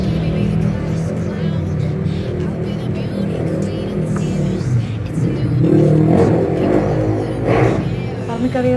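Race car engines revving in a street race outside, a loud, continuous low rumble with rising and falling revs throughout and a voice briefly talking over it.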